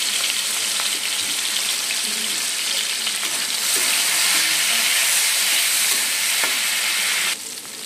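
Prawns fry in hot oil with turmeric and salt, a constant bright sizzle close by with occasional stirring clatter, easing slightly at the very end.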